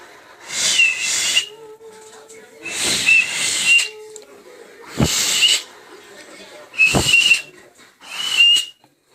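A person whistles in five breathy, hissing bursts spaced about two seconds apart, close and fairly loud, with faint tonal notes between them.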